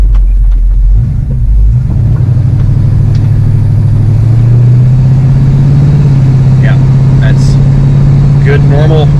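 A 1969 Hurst Olds V8 rumbles steadily in normal driving, its low drone holding even and close with a slight rise in pitch, and a voice speaks briefly over it.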